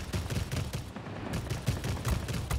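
Rapid bursts of 30mm cannon fire from a La-160 jet fighter in the World of Warplanes air-combat game, sharp repeated thuds over a continuous engine roar.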